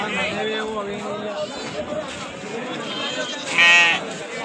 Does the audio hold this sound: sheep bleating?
yes